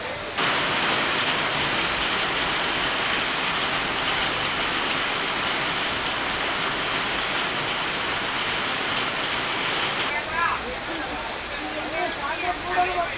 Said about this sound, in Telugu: ఒక మోస్తరు వర్షం కురుస్తోంది